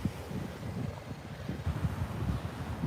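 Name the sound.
wind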